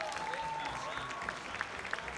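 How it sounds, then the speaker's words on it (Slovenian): An audience at a Slovenian acrobatic rock'n'roll cup final applauding honoured guests, steady crowd clapping with a few sharper individual claps standing out near the end. "jaz mislim, da vsi trije si zaslužijo en aplavz"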